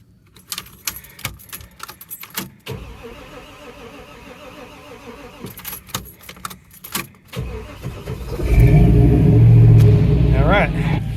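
A 1987 Blazer engine idles roughly under load with clicks and clatter, then surges to a loud, heavy rumble near the end as it struggles toward a stall; close by, with someone speaking over it.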